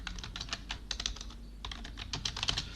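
Rapid, steady keystrokes on a computer keyboard clatter close up, an even stream of light clicks with a brief pause partway through.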